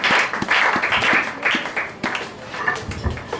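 A church congregation applauds to welcome a visiting reverend at a worship service: dense, steady clapping with crowd noise and a few sharper claps, sustained at close range throughout.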